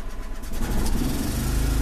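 A small portable generator coughs and catches, its engine rising into a steady, loud running drone that holds to the end.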